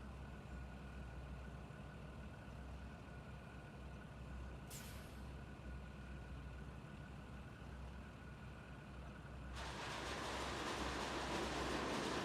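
A truck in the RoadCraft video game rumbles steadily at low pitch, with a brief scrape about midway and then a louder, broader rattling and scraping over the final seconds, and no talking.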